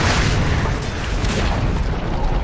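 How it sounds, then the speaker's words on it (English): A defensive tower collapsing in the Dota 2 video game, heard as a loud, sustained low rumbling boom with dense crackling debris noise lasting a couple of seconds. "Dire's middle tower has fallen."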